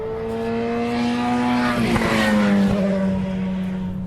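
An LMP2 race car in Gulf orange and blue colours passes close by, its loud engine tone climbing then dropping sharply in pitch as it goes past, with a brief burst of texture mid-pass.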